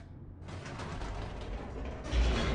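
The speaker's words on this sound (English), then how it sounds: "The elevator raced downward, plummeting towards an unknown fate." Elevator descending in the video game The Stanley Parable, a steady mechanical rumble and creaking hum that swells slightly toward the end.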